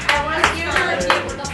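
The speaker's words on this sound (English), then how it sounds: "We got so many applause." A comedy club audience gives a few sparse, evenly spaced claps, about four distinct hand claps over a low murmur in the room.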